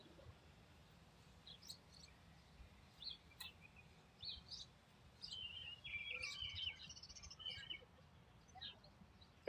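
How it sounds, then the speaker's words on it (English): Close, small bird chirps come in short scattered bursts that grow busier toward the end, over quiet low background rumble, with no talking. "I've got a bird here that I think needs some help because I don't think they're well."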